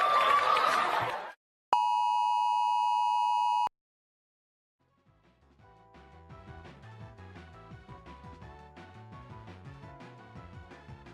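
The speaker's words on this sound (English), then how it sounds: "That sound effect at the end for the like emergency thing almost got me." A burst of noisy sound gives way to an emergency-alert style tone, a loud steady beep held for about two seconds, then silence before a soft run of 8-bit style notes fades in.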